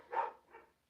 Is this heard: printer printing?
no